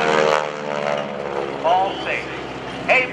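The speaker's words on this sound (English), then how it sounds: "Bill, the flat 8 looks great" A propeller-driven aerobatic plane with a flat-8 engine roars past at an airshow, a loud steady drone with rising and falling engine pitch as it maneuvers overhead.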